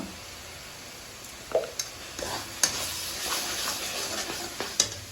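Spice masala with chicken gizzard frying in a pan: a quiet continuous sizzle broken by a few sharp scrapes and clinks as the mixture is stirred, with no voices.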